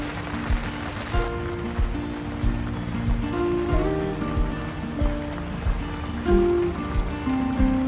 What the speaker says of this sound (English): we didn't expect heavy rains pouring down upon waking up the following morning